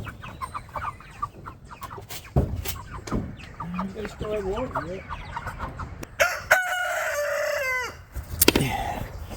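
A rooster crows loudly nearby amid steady clucking from chickens, with a person talking briefly at the start.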